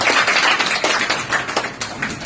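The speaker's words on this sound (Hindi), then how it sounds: "तालियां बजा करके स्वागत करें बेटे" An audience at a village panchayat honours ceremony claps to welcome a young achiever, with uneven, somewhat sparse clapping that thins out toward the end.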